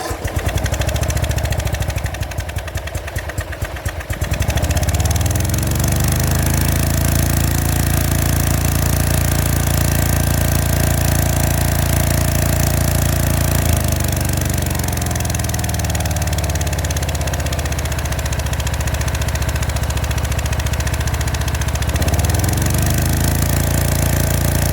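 Engine of a Gravely 34z zero-turn mower cranking to life after the key is turned, then running loud and steady close by, with a rough stutter at the start and a brief dip in pitch near the end.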